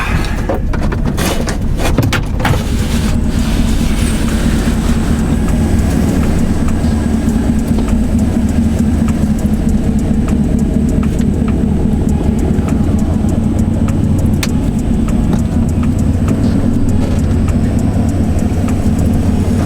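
An old pickup truck with a battery problem drives along, its engine rumble and road noise loud and steady from inside the cab, with rattles and knocks early on and no talk.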